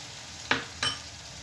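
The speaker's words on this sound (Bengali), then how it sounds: "আর পরিমাণ মতো হলুদ দিয়ে মশলাটা খুব ভালো করে কষিয়ে নেব" Spice paste for oil koi fish curry, made with turmeric and salt, sautéing in a pan: two brief scraping stir strokes over a faint, steady sizzle, with no one talking.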